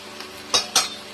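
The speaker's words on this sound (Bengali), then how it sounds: "ভেজে রাখা আলুগুলো দিয়ে দিলাম।" Fried potato pieces tipped into a pot of mutton curry make two quick, close knocks with a spoon clink over a faint low simmer.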